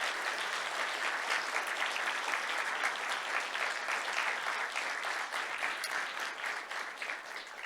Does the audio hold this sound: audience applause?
yes